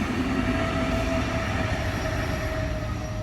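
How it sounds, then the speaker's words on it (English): A train rolls past nearby, a loud, steady rumbling roar with a faint thin whine running through it, heard alone throughout. "And there goes the train."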